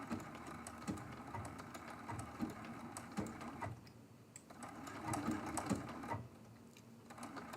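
A sewing machine stitching applique on a quilt block, running in short rhythmic bursts of rapid needle clatter with brief pauses between runs, close and moderately quiet.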